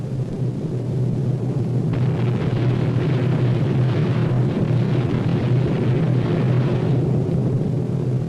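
500-pound bombs dropped from 2,500 feet exploding on German gun emplacements on the Cherbourg Peninsula in 1944 wartime film, heard as a continuous heavy rumble with a denser roar through the middle.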